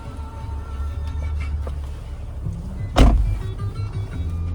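Power windows on a 2006 Lexus RX 330 hum steadily at low pitch, stop with a thud, then resume their motor whine, heard from inside the car with no talking.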